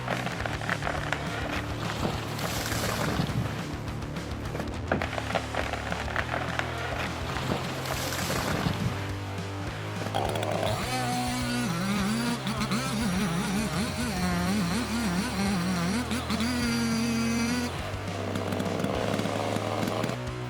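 A powerful chainsaw roars continuously while cutting large-diameter logs, its loud, buzzing engine note rising and wavering as the chain bites into the wood, with a busy, mechanical din throughout and no talking.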